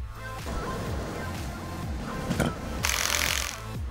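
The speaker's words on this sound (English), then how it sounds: "using a high-powered impact drill, followed by a crowbar, they released the light from its tight housing" A high-powered impact drill loosens a runway taxiway light from its tight housing, with rapid hammering bursts that repeat in short spurts and end in a louder, harsher burst near the end, with no voices.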